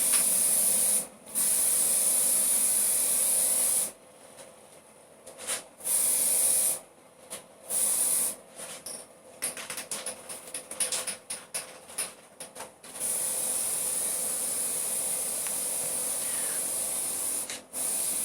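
A spray gun hisses in long, loud bursts while a Rover 216Si car is painted, some blasts running several seconds and others short and choppy, close by with no talking.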